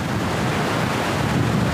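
At a forest waterfall, water rushes and spray blows in a constant broadband roar, loud and close, with no talk.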